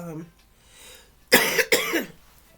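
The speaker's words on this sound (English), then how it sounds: "I don't know why I'm coughing now." A close, harsh cough in two quick bursts, preceded by brief speech.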